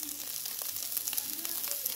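Chicken mixture with tandoori masala fries in a pan, giving a steady, close sizzling hiss that runs through the whole stretch with small crackles.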